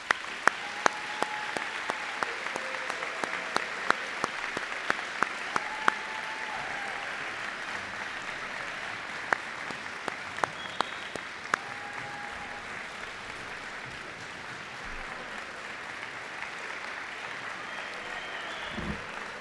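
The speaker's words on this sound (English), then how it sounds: "please join me in a round of applause to congratulate our 2026 Soaring Eagle Award recipients" A high school awards night audience applauds Soaring Eagle Award recipients with sustained, moderately loud clapping from many hands, dense at first and gradually easing while a few voices murmur underneath.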